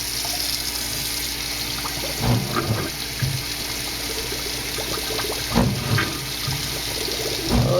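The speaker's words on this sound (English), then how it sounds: "Let's go over here and see if we get some hot water." Hot water runs from a household tap after an electric tank water heater replacement, a steady close rushing flow with occasional clunks and splashes, no talk.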